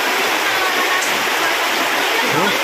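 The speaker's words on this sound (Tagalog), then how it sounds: "Tuloy-tuloy pa rin ang ulan." Steady, dense rushing of heavy rain pours without a break, a broad hiss that fills the whole clip.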